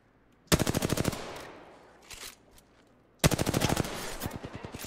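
Enemy automatic gunfire in Apex Legends on the Olympus map comes as two loud, rapid bursts of fire with a short, quieter stretch of distant shots between them.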